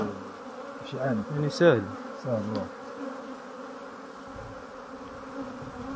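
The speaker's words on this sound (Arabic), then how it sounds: "كنشوف شي وحدين يعني يدخلوا النحل" Honeybees crowd into a beehive high in the Beni Snassen mountains near Berkane, Morocco. A steady, close buzzing hum runs through the whole stretch, with a voice briefly talking over it near the start.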